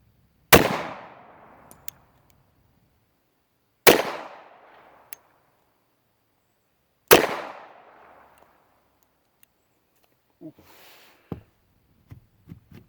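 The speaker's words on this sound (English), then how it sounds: "We are shooting 80-year-old ammunition." Three loud, sharp reports from a Tsias Duty 45 Auto pistol firing 80-year-old ammunition, evenly spaced about three seconds apart, each with a decaying tail, followed by faint clicks and handling noises.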